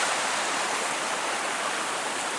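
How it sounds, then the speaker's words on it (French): A small stream flows close by at a bushcraft bivouac camp in the woods, a steady, even rushing hiss of running water that continues throughout with no voices. "La rivière qui est juste à proximité. Enfin, le ruisseau plutôt."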